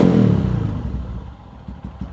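A carbureted motorcycle engine fitted with a new power cable throbs after a brief loud burst, then settles into a low idle punctuated by short blips of throttle, heard close with no talk.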